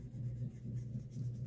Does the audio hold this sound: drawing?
yes